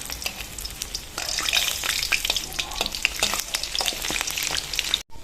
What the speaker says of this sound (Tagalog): So ngayon nga ay may sinalang na akong tokwa. And pabaliktarin ko na kasi ma-brown na.